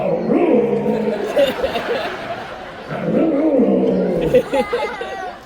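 A man imitates a dog barking with raspy, strained vocal yelps, while people laugh and chatter around him at a cruise ship comedy show.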